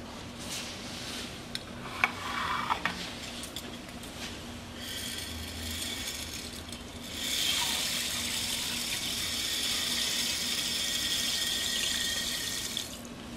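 Water from a tap pours steadily to soak tapioca in a kitchen, starting with light splashes and swelling to a louder continuous gushing fill.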